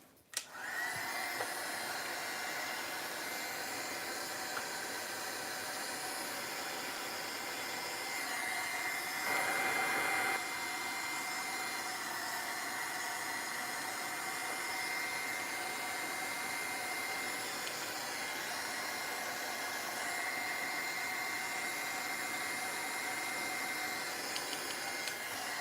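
A handheld dryer blows to dry an artwork, a loud steady close whoosh lasting throughout with only slight shifts in pitch and no talk.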